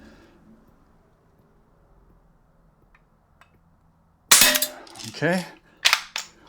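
A Barra 1866 Junior pump BB rifle fires a sharp, loud shot after a quiet stretch, followed by mechanical clacks of the lever and pump action; a voice speaks briefly before the shot.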